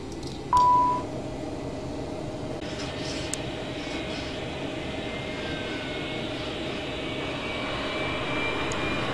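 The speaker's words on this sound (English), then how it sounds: "Okay, right engine's going." The right aircraft engine starts up in the FSX flight simulator game. A short beep comes first, then a steady whining hum that builds gradually into a rising turbine drone.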